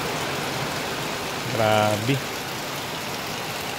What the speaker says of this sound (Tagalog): Ay, lakas ng ulan.